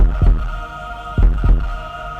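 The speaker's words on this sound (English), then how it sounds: "And this is what a heart rate sounds like when you file H&R Block." Slow, calm heartbeat sound effect in a radio ad: a few spaced low double thumps with a soft steady hum between them, no talk.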